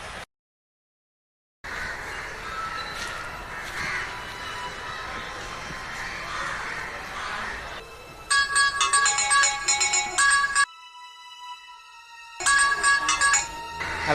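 A phone ringtone plays a bright repeating electronic melody, loud and close, with a short pause before it starts again.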